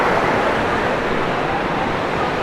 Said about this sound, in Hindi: इन पहाड़ के बीच में से ये जो पानी है वो निकल कर आ रहा है।